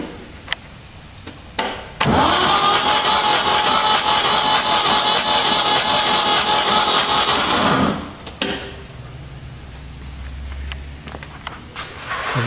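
A Ford 3600 tractor engine that had been stuck cranks over loudly and steadily for about six seconds with a fast rhythmic chug, then stops, leaving quieter clanks and a low hum.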